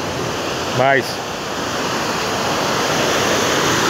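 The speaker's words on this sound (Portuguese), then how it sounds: "da força da água. Muita água." A waterfall in full spate after floods, a loud, dense, unbroken roar of rushing water close by, with a brief spoken word rising over it near the start.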